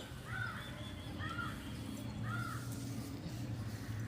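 A crow caws three times at roughly one-second intervals on a rooftop terrace where rice is drying, moderately distant and fairly faint over a steady low background hum.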